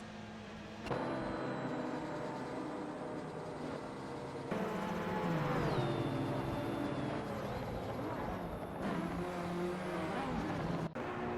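Several retro supercars race around a track in an AI-driven simulator game, engines droning and shifting pitch continuously as cars pass and rev, steady and moderately loud throughout.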